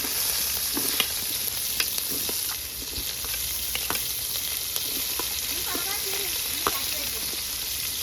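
Onions fry in oil with popping mustard seeds for a chicken curry, a steady sizzle broken by scattered small pops and the scrape of a stirring spoon, close by with a faint voice underneath.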